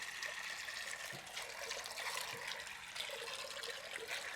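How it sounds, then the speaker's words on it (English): Water poured from a tap into a pot of dried red beans for Louisiana-style red beans and rice, a steady faint running trickle with a couple of small splashes. "And I'll add water. Now, it don't matter how much water you got"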